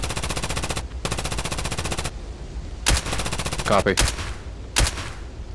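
A video game firefight with long bursts of automatic gunfire and single loud shots, close and dominant, while a voice briefly speaks over radio-style chatter.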